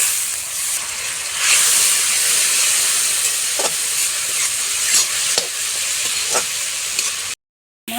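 Spice paste sautés in a little oil for Bengali bata fish curry, giving a loud, continuous hissing sizzle broken by occasional stirring scrapes, then a brief silence near the end.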